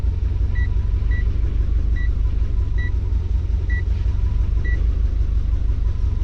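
A Bongo van engine idles roughly and steadily, a loud continuous low rumble throughout, with a faint repeating electronic beep sounding at regular intervals above it.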